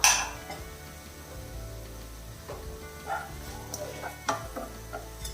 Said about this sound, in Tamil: இதை சேர்த்துறேன். சேர்த்துட்டு நல்லா கிளறிக்கலாம்